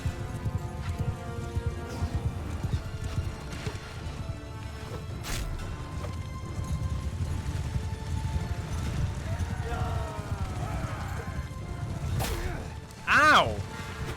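Galloping horses of horse archers in the video game Mount & Blade: Bannerlord, a rapid clip-clop of hooves with scattered battle clashes, a horse whinny near the end, and someone talking over it.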